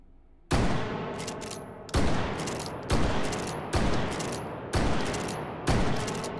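Six loud, booming blasts from a lever action shotgun in the VR game Hot Dogs, Horseshoes & Hand Grenades, fired about one per second, each with a metallic clack and a decaying tail, close and alone.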